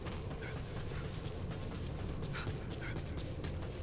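A dog in the video game Metal Gear Survive gives soft whimpers and small yips over steady game background noise, with no speech.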